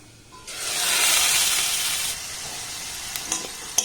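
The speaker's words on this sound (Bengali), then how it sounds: "গাজর আর আলুটাকে দেখুন আমি কিন্তু নাড়াচাড়া করে একটু ভালোভাবে ভেজে নিয়েছি" Carrots and potatoes stir-frying in a pan for a quick tiffin snack give off a close, steady sizzling hiss that swells after a short lead-in, then thins, with a few sharp scraping clicks near the end.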